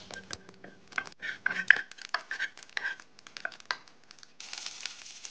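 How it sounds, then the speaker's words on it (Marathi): Mustard seeds and cumin crackle in about two spoons of hot oil during tempering for a tomato bhaji, giving sharp, irregular, close pops and spits, with a faint voice briefly heard at the start. "सासवा बरी तडतडपाक जाय।"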